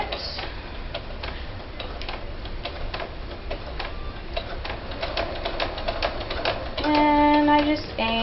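Sewing machine running steady rapid stitches through a loose piece on an altered journal, a close, even ticking rhythm that grows louder and busier near the end, with a faint tonal hum creeping in.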